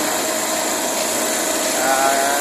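A newly installed compressor runs loudly and steadily, giving a constant mechanical drone with a strong vibrating hum and no breaks.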